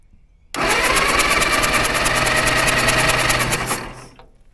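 An old Caterpillar dozer engine, left sitting since 1992, cranks over steadily for about three and a half seconds, a loud, even, rapid mechanical churning that starts abruptly and fades out without catching, no voices.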